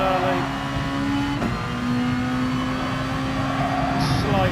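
Race car engine in a sim racing game at Suzuka, a loud sustained drone holding pitch with a shift near the middle, running continuously as a voice talks over it.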